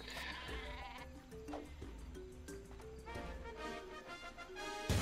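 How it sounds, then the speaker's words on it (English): Super sheep bleats in the video game Worms: Clan Wars, repeated wavering sheep cries over game music and clip-clop hoof-like steps, ending with a sudden burst. "You have super sheep."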